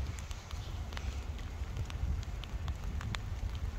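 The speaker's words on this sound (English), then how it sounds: "it's hailstones now." Hailstones patter and rattle densely onto surfaces at a street-level railway crossing in Lurgan, a steady close rush of rapid ticks and taps with a low rumble underneath.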